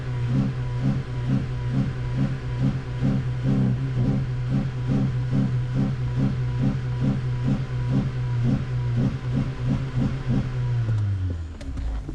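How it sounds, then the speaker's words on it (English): A car engine on a Matrix build idles with a steady pulsing rumble, loud and close, then winds down near the end as the revs drop. "Rev it."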